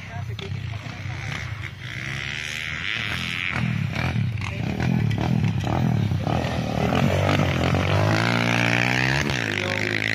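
A motorcycle engine running on a rural road past a farm lot in Nagcarlan, Laguna, a steady droning rumble that rises in pitch toward the end, with someone talking over it.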